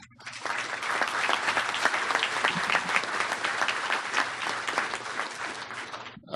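Audience applause fills the room at the close of a national awards ceremony honoring outstanding students, a dense, steady wash of many hands clapping at moderate volume for several seconds before cutting off.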